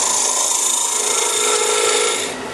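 A woodturning tool hollows the inside of a thin wooden birdhouse piece on a lathe, giving a steady, bright scraping rasp that runs continuously at close range before easing off near the end.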